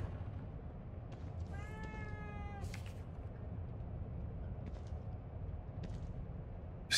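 A single drawn-out cat meow sounds in the horror game The Evil Within 2, a clear wavering cry lasting about a second over a low ambient rumble, followed by a few faint clicks.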